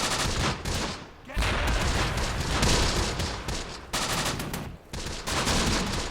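Dense, continuous gunfire from units shooting at an enemy mortar in the Close Combat war game, set at an Italian desert stronghold, with heavy overlapping bursts and brief lulls near 1 s and 4.8 s.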